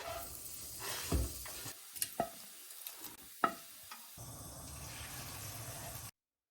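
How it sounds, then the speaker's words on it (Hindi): Chopped broccoli sautés in hot oil, a steady sizzle with a few sharp clinks and scrapes of stirring, fairly close and alone, ending abruptly. "I'm just going to put it in oil and let it saute for a few minutes"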